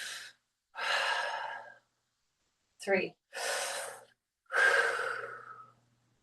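Deep audible breaths during a stretching exercise in a class, a series of several loud, close inhales and exhales separated by short pauses, with a brief spoken count between them.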